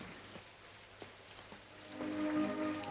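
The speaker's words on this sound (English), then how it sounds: "They can't possibly be out here. It's raining." Steady rain hisses softly in the background with a few faint drips, growing slightly louder as a low hum joins near the end.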